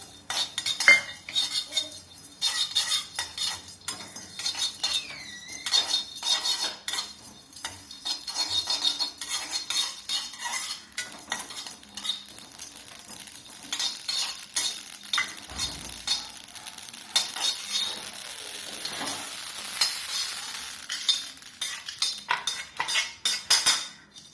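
Poppy seeds roast dry in a pan while a metal spoon scrapes and clinks against it repeatedly, irregular close stirring strokes over a faint crackle.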